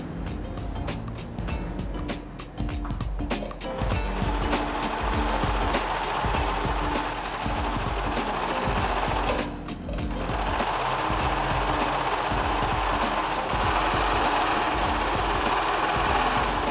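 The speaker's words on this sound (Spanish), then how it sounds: "Ahora Diana, en la máquina Overlock, va a unir los hombros para luego pegar la manga y terminar cosiendo el bajo manga." An overlock sewing machine joining the shoulder seams of a beach cover-up runs steadily with a fast mechanical whir and knock, close and continuous apart from one brief pause, with no talk.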